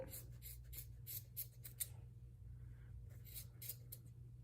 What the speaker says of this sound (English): we're gonna trim the connected bits. We're gonna cut them open.